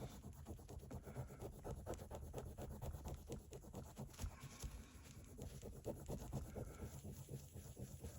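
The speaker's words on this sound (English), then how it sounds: "get some more wadding and then just literally rub like mad, back and forth, up and down, round" Cleaning wadding is rubbed hard against a WW1 Victory medal, making a close, continuous scrubbing with fast, regular back-and-forth strokes.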